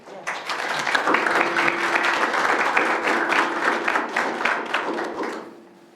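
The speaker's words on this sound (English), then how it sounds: "So let's give this agreement a round of applause." An audience at a board of education meeting bursts into applause for a signed agreement, producing steady, dense clapping close by for several seconds before it tapers off, with a faint steady tone underneath.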